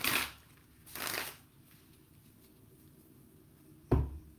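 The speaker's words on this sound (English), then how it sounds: "I'm happy to just shuffle a couple more times." A deck of tarot cards is shuffled by hand in two quick riffling bursts near the start, followed by a soft tap as the deck is squared, in a quiet room with no talk.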